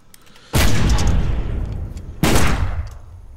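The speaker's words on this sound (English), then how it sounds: "I can make those gunshots pop." Two loud gunshot sound effects, played back with a hard, booming crack and a long decaying tail, about two seconds apart, with no talking.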